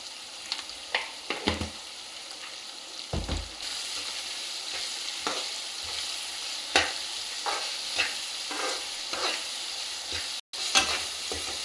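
Salted onions sizzle steadily in a hot pan while a spoon scrapes and stirs them in irregular strokes, the frying loud and close with no voices.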